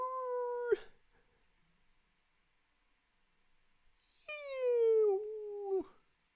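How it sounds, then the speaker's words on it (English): A dog howls twice, each a long, clear, close wavering note, separated by several seconds of near silence. "Can you hear the doggy saying? "Arr!""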